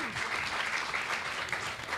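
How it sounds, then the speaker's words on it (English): An audience claps at a blockchain and cryptocurrency talk, a short burst of steady, moderately loud applause from a crowd that fills about two seconds. "Give her a round of applause."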